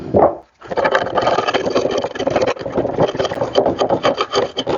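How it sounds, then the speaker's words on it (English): Razor blade scraping dried glue off a glued-up wooden cutting board, a continuous rough rasping scrape with rhythmic strokes, close and loud. "I'm just going to take a razor blade and peel off all this glue"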